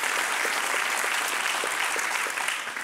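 Steady, dense audience applause fills the whole stretch at an even level, a thick wash of many hands clapping with no voices rising above it, easing only slightly at the very end.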